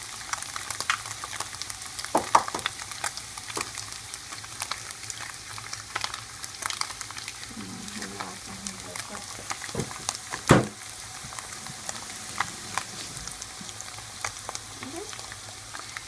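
Eggs frying with zucchini in a pan for vegetarian fried rice, a steady soft sizzle and crackle throughout with one sharp utensil clink partway, close and fairly quiet.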